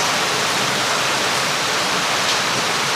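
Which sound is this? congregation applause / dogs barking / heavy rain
heavy rain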